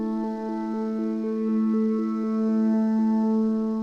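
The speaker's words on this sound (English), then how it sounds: "It's the alternate tone, and it sounds like this." Massive X synthesizer Alternate Tone preset, a steady harmonic drone with a fast, even rhythmic pulse stepping between two pitches, moderately loud and alone.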